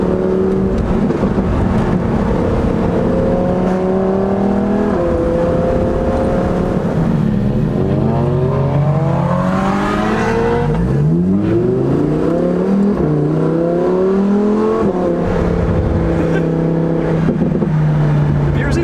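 A Lamborghini Performante engine drives steadily, its tone climbing and falling through several gear changes and revs, loud and close throughout.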